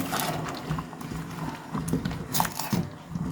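A pot of water boiling up close, with irregular bubbling and knocking rattles throughout.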